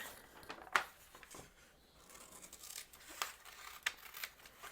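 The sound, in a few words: scissors cutting folded paper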